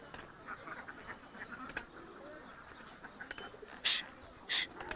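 Muscovy ducks on a farm give two loud, abrupt quacks close together near the end, after a stretch of quiet, low farmyard background.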